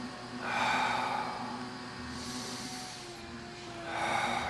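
Audible breaths during a yoga twist stretch, faint and close: a long inhale, a quieter stretch of airflow, then another breath toward the end, with no talking.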